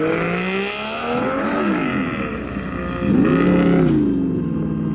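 A modified drift car rolls out of a car show in Texas, its engine burbling and revving loud and close. Pitch climbs and falls in a few throttle blips, swelling stronger near the end.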